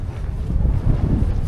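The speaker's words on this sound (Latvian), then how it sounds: "Ka vējš te puš." Steady wind buffeting the microphone near the ocean in Andalusia, Spain, a low continuous rumbling roar with uneven gusts across the whole short stretch, with no voices.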